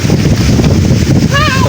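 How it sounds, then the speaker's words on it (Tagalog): Strong wind at a Pacific Ocean view deck in Dingalan, Aurora roars and buffets the microphone continuously, with a brief whistling tone near the end. "sobrang lakas po ng hangin"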